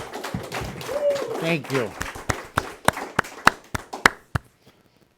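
A few people at a speakers' meeting clap after someone talks, giving a short burst of sharp, distinct handclaps that thins out and stops, close and fairly loud.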